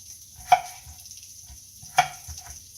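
Radishes thrown into a frying pan for a breakfast frittata, two sharp clattering drops with brief sizzle, quiet and close, separated by about a second and a half.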